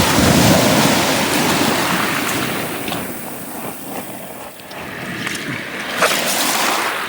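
Ocean waves wash in on a rising tide along a misty shoreline in the morning, forming a steady broadband roar with swells of surf and no voices.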